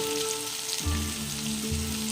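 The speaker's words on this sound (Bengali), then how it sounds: "তেলের সাথে কাঁচা লঙ্কা কালো জিরের সাথে ভালো করে ভাজা হয়ে গেছে" Pumpkin and potato frying in oil with green chili and nigella seeds, a steady close sizzle with a constant low hum running underneath and no talk.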